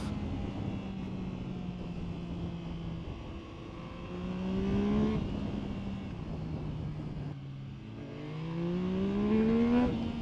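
A Yamaha MT-09 Y-AMT motorcycle engine accelerates hard in first gear past 70, its rising engine tone sweeping upward in repeated pulls, loud and close with no voices.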